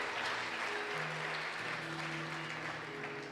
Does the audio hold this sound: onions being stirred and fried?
no